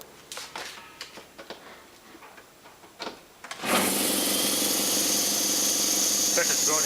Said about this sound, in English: So now I'll briefly turn the compressor on and blow the crap out of this hose